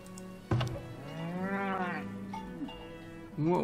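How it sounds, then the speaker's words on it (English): Livestock on a cattle farm in the video game Farthest Frontier, with a single drawn-out bleating, lowing call in the middle, fairly faint against quiet game ambience. "Let me just check that cattle farm again."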